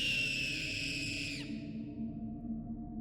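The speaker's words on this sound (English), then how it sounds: "the girl's scream came from beyond the walls of the cemetery" A girl's terrified scream rises from beyond a cemetery's walls: a high, sustained shriek lasting about a second and a half, then dying away into a low, rumbling night ambience.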